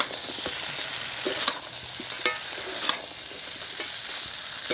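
Spiced onion and tomato masala for a crab curry frying in oil while a spoon stirs it steadily, giving a close, continuous sizzle broken by regular scraping strokes against the pan, with no talking.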